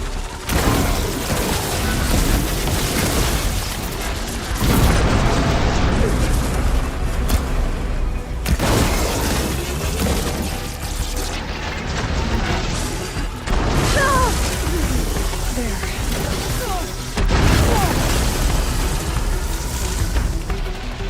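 Ballista shots in the video game Horizon Forbidden West: heavy booming launches and crashing impacts that repeat every few seconds, loud and close, over a dense rumbling battle bed with mechanical clanks.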